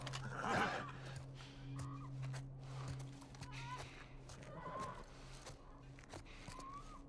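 A horse in The Last of Us Part 1 whinnies and snorts several times, close and clear, with hoof clops and shuffling between the calls.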